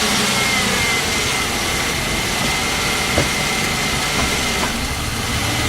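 A 1992 Ford Explorer engine runs steadily at close range as it is put into reverse, a constant even drone with one faint clunk partway through and no talking.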